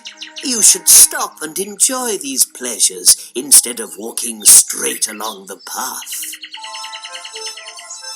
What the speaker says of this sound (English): And can you hear the birds singing?